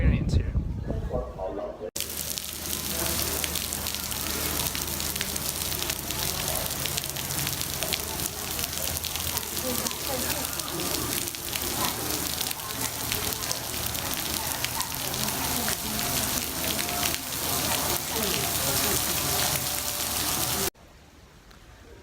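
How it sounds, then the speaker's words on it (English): Rain falls steadily at Guanyin Mountain in China, a dense, continuous hiss of drops that holds at an even level through most of the span, with quieter stretches at the very start and end. "waiting for the rain to pass"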